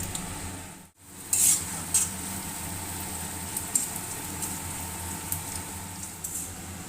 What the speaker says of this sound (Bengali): গরম মশলা দেওয়ার পরে আমি কুচিয়ে রাখা পেঁয়াজগুলো দিয়ে দিচ্ছি।